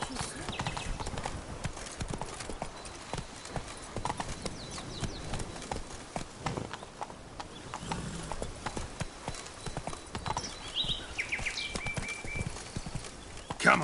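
Roach the horse's hooves clip-clopping in steady rhythm in a Witcher video game, close and continuous, with game voices and ambience underneath.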